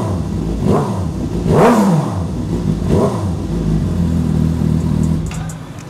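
A Suzuki GSX-S750 motorcycle engine revs in loud, repeated throttle blips that rise and fall, with the idle rumbling steadily between them. It sounds close and carries on alone, with no talking.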